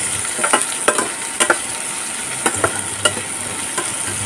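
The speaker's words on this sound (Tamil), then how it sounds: "இந்த வெங்காயம் வந்து நல்ல கலர் சேஞ்ச் ஆகணும், அது வரைக்கும் நம்ம வந்து நல்லா வதக்கிக்கலாம்." Chopped onions sizzle and sauté in a hot pan for an ivy gourd stir fry, a steady frying hiss broken by repeated scraping stirs of a spatula, with no talk.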